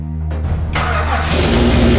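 An old, previously broken-down car in Australia, freshly fuelled from a paint can, cranks and catches, then settles into a loud, steady, rough running engine close to the microphone.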